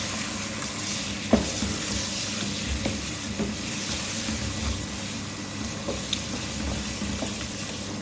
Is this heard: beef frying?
yes